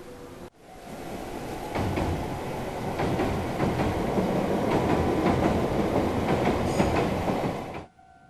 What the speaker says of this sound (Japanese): 桜の中を走るのは名鉄各務原線。